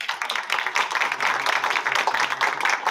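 Audience applause at a live streamed event, a steady wash of many hands clapping close and loud for the full stretch, with no talk over it.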